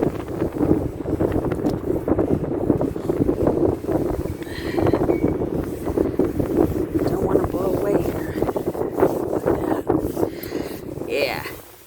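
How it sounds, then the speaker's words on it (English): Gusty wind buffets the microphone with a steady low rumble, broken by brief pauses, while a person talks intermittently. "It's getting windy here."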